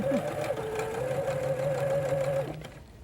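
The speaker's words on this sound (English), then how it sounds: "I will straight stitch a 1/4 inch from the edge of the fabric." A sewing machine running a straight stitch along the edge of fabric, a steady close rapid whirring hum for about two and a half seconds before it stops.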